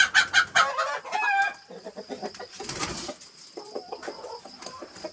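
Chickens cluck in a permaculture chicken run, sharp clucks and crowing-like calls opening the clip, then sparser, softer clucking and rustling at moderate distance.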